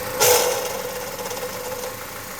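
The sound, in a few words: Chevrolet Malibu engine idling with clattering noise, relay pulled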